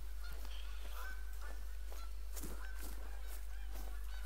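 Geese in the hunting game The Hunter: Call of the Wild honk repeatedly in an overlapping flock chorus, some calls nearer and louder, over a steady low hum and background noise.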